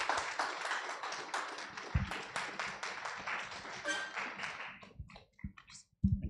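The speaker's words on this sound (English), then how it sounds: "Let's give him another round of applause." An audience claps for a speaker at a live business television event, the dense applause rising and then thinning into scattered claps before a final burst.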